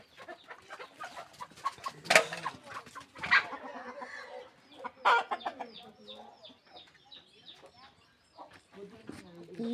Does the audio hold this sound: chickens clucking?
yes